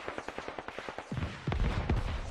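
Gunfire erupts around a forward operating base in the Squad Ops video game, a rapid string of sharp shots in the first second giving way to heavier, denser booming bursts that stay loud and close.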